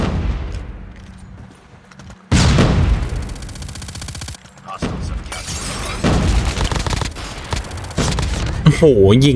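Gunfire from the mobile shooter game Call of Duty Mobile rattles in loud rapid bursts and booms, with automatic weapon fire continuing through most of the stretch and game sound effects close at hand.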